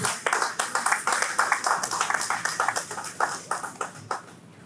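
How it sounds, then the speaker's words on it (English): Conference audience breaks into a round of applause at a year-end economic outlook event, dense overlapping hand claps filling the room steadily at moderate loudness, tapering slightly toward the end. "Please give her a big round of applause."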